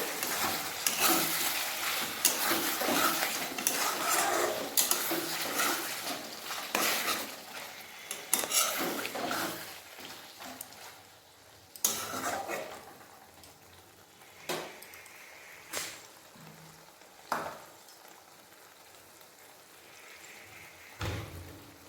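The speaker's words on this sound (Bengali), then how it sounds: "আবার একবার ঢাকনাটা খুলে ভালোভাবে নেড়ে নেব" A lid is lifted and chicken gizzard curry is stirred in a pan, with metal clinks and scraping over a faint sizzle, busy at first and then sparser knocks.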